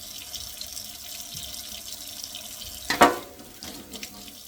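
Tap water runs steadily into a sink while produce is rinsed, a continuous gentle splashing with a brief louder gush near the end and no voices.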